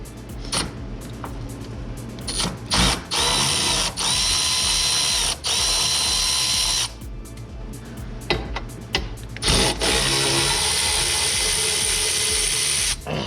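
A cordless power tool whirs and rattles in several long bursts with brief pauses, loud and close, with mechanical clicking as it removes 13 mm bolts during battery replacement on a 2016-2024 Chevrolet Camaro.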